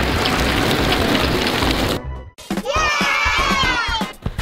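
Steady hiss of heavy rain for a couple of seconds, then a sudden break followed by a shrill, wavering cry and more noisy patter.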